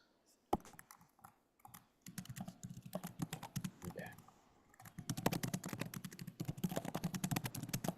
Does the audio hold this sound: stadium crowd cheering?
no